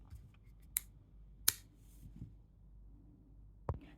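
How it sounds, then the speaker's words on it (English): A few sharp scissor snips cut through crochet thread during handmade jewelry work, close and spaced apart in a quiet room. "Now I will cut the thread."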